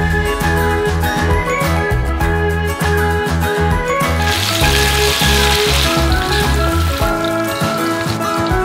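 Crispy chicken sticks fry in hot oil, a loud, steady sizzle and crackle up close that continues throughout, with music playing under it.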